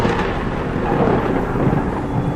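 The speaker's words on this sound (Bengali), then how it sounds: "দূরে কোথায় যেন বাজ পড়ল।" A deep rolling rumble of thunder sounds as an effect in a dramatic audio story set on a stormy highway, low and sustained with a faint rain-like hiss.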